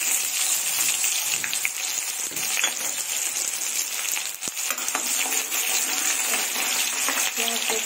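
Onions fry in a pan for okra curry, a steady close crackling sizzle with faint stirring scrapes running throughout.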